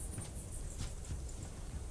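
Horse hooves clip-clop at a steady walking pace in the video game This Land is My Land, a soft repeated patter under a constant outdoor ambience.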